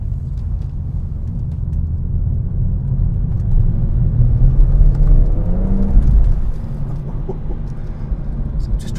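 A BMW M140i engine drones steadily in the cabin while driving in the rain, the tone rising and falling with throttle, a loud continuous low rumble with a swell around the middle and a brief dip afterward.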